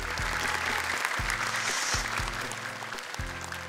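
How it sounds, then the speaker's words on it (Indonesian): Audience applause at an Indonesian televised Quran memorization competition, a steady dense clapping from a crowd that runs the whole way through, with music playing underneath. "Selanjutnya, tepuk tangan juga untuk Abi Amir Faisal Fat"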